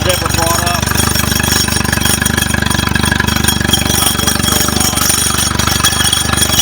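A Mercury 60 hp four-stroke outboard with a lack-of-power fault runs steadily in neutral, producing a loud, continuous, even rumble up close with no pauses.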